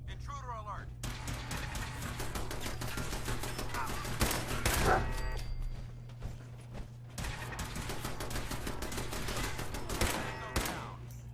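Rapid bursts of automatic turret gunfire in Fallout 4, a dense rattle of shots running almost the whole time with brief pauses, loud and close, with other game sounds mixed in.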